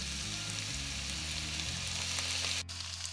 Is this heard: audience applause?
no